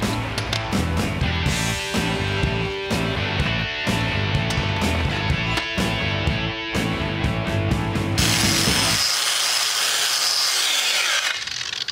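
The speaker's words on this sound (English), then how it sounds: "I'm grinding everything down to smooth it out with a flap wheel" A flap wheel grinds a Ford Explorer truck axle smooth, giving a harsh, rhythmic scraping that pulses for about nine seconds before changing to a thinner, higher whir. No one speaks.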